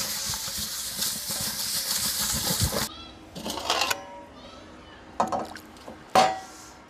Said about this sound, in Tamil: நல்லா உப்பை உள்ளே போட்டுட்டு தட்டெடுத்து நல்லா கிடு கிடு கிடு கிடுன்னு சுற்றுறோம்